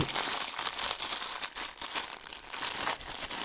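Loud, close crinkling of a sturdy plastic bag of Chinese Lego-style parts being handled and pulled open, a continuous crackly rustle with uneven swells.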